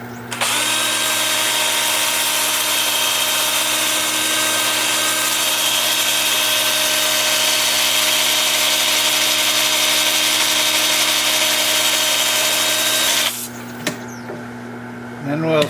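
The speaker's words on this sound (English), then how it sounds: "Well, time for sanding." A lathe hums in a steady high whine with sandpaper hissing against a spinning cherry live-edge mini-bowl, turning in reverse at 350 RPM. The sound is loud and close and runs continuously for about thirteen seconds before stopping.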